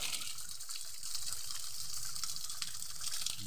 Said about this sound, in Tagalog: Merong lumalabas na tubig.